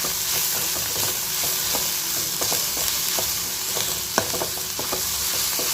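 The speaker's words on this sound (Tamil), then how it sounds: "இப்போ இதில் எடுத்து வச்சுருக்க வரமிளகாயும் சேர்த்துக்கலாம் மிளகாயும் சேர்த்து நல்லா வதக்கி வச்சுக்குவோம்" Onions and dried red chillies sauté in a pan for tomato chutney, giving a steady close sizzle with frequent sharp scraping clicks of a spatula stirring throughout, and no voices.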